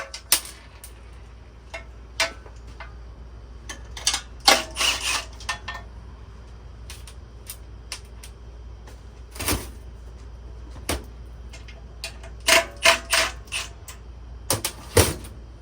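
Ratchet clicks and metallic handling as 10mm bolts are backed out of a small engine's fan shroud, coming in short irregular bursts of sharp ticks at close range with quiet gaps between, no talking.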